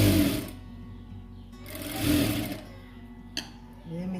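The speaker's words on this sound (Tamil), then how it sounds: "நான் மிஷின்லேயே தான் தைக்கிறேன்." A sewing machine stitches fabric on a burqa in short, rapid whirring bursts, with pauses between them, while someone speaks over the work.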